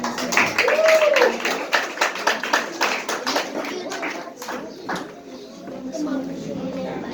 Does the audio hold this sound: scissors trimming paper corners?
no